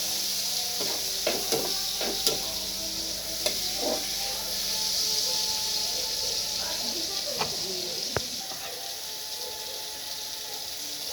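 Dried fish (tuyo) frying in a pan, a low steady sizzle with scattered sharp pops and clicks of the pan, faint and fairly close throughout.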